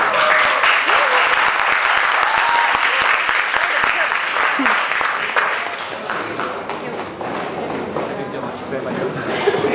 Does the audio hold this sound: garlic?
no